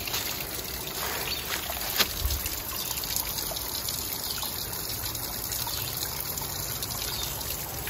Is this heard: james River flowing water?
yes